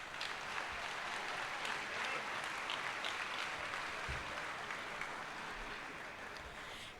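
Faint, steady round of applause from an audience at an awards ceremony, continuous clapping that tapers slightly toward the end.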